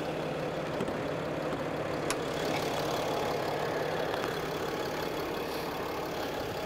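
A 6.7-liter Cummins turbo diesel engine in a 2015 Ram 3500 Bighorn truck idles steadily with a low, continuous rumble and a faint knocking undertone, no voices present.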